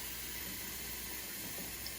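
Kosher water pours steadily over meat in a kitchen pot, a continuous close hiss of running liquid with no talk.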